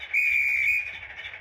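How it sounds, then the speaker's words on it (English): A model train's guard's whistle: a shrill, steady blast held for about two-thirds of a second, then trailing off into a softer tone, with faint low rumble beneath. "You've even got a guard's whistle."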